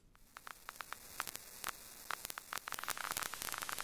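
Crackle and hiss from Ableton's Vinyl Distortion effect running on an empty track with no sample, a faint bed of static dotted with scattered pops and clicks that thicken toward the end.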